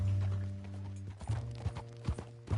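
Horse hooves clip-clop across ground in a PS4 video game, a loose uneven series of close knocks over a low steady game hum, with no voices.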